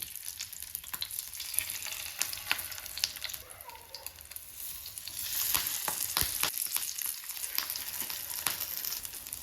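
Fish frying in masala with curry leaves in a pan, a quiet steady crackling sizzle with frequent sharp pops and spatters, growing slightly louder partway through, no voices.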